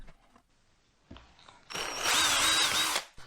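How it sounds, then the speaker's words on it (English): A small power drill bores a shallow pilot hole for screw eyes in a workshop, a soft shuffle first, then a loud, steady high whine for over a second before stopping abruptly. "So as you can see, a little pilot hole, a little drill, not all the way through, just enough to get it started."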